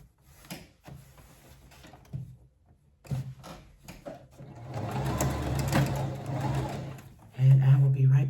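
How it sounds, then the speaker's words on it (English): A sewing machine runs a 5/8 seam on a maxi skirt, its motor whirring in bursts that build to a loud, steady stretch near the end, with a few soft handling clicks between runs. "I'm going to do a 5/8 seam."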